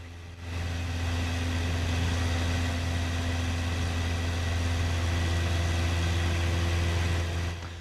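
A Super Decathlon aerobatic aircraft's engine running, a loud steady low drone with a constant pitch, starting abruptly and holding evenly until it cuts off at the end.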